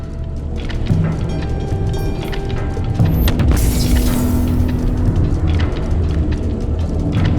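Weapon fire and crashing effects from a disintegrator in the action game The Incredible Adventures of Van Helsing, loud and continuous, with repeated booming bursts and mechanical clanks over a steady rumbling game soundscape.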